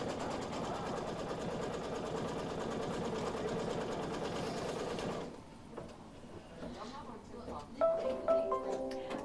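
An embroidery sewing machine runs a basting stitch for a mini quilt, a steady fast mechanical whirr that stops about halfway, followed by quieter clicks and a few higher beeping tones.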